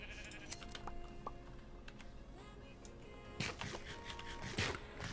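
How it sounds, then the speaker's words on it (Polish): Sheep bleat in the Minecraft video game, several short game-style bleats scattered over a few seconds, mixed with fast keyboard tapping and mouse clicks, fairly quiet overall. "Mamy tam owce."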